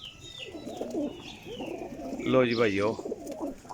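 Pigeons coo softly in a loft, with someone talking over the birds nearby throughout.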